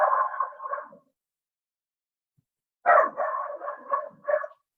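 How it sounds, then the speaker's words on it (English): A dog barks indoors in two bursts, a short volley at the start and a longer run of loud, close barks after a pause, with no talking over them. "that's my dog, Obi."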